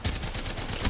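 Rapid automatic gunfire in Apex Legends, a dense burst of shots packed together for a second, loud and close with no talking over it.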